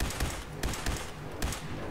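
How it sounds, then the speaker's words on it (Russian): Automatic weapon in Fallout 4 firing short bursts, rapid sharp cracks in quick clusters, loud and close. "эта пушка, блядь, стреляет очередями"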